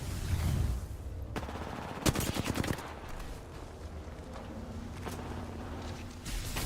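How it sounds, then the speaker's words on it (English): Enemy gunfire in a ranked solo shooter game, with a dense cluster of rapid shots midway and scattered single reports after it, heard over steady in-game background noise. "Enemies are shooting at me."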